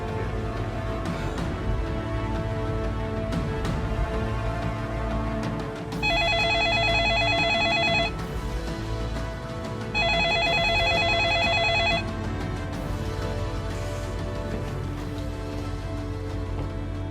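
A telephone rings as a call is placed, two long bursts of ringing tone, each about two seconds, separated by a pause, standing out over a steady background bed.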